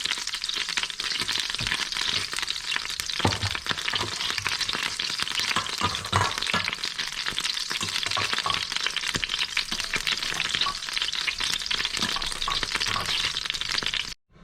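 Buffalo wings being stirred through sauce in a hot pan, a steady close sizzle of frying with scraping stir strokes and occasional crackles running unbroken for about fourteen seconds before stopping abruptly.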